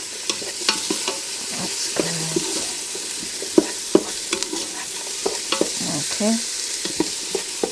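Pork sizzling in a Ninja cooker while a utensil scrapes and stirs the bottom, giving intermittent clicks over a soft, steady fry; a person speaks briefly.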